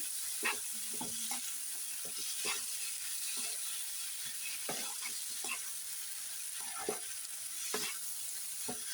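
Ginger garlic paste sizzles quietly in a pan for a home lunch, a soft steady fry beneath repeated stirring clinks and scrapes spaced every second or so.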